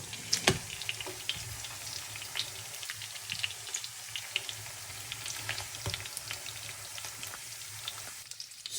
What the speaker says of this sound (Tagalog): gigisahin na natin ang onions, guys, para sa ating beef steak